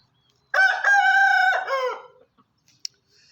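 A young Thai fighting rooster crows once, loud and close, a long harmonic cock-a-doodle-doo rising and trailing off, followed by quiet with a brief click.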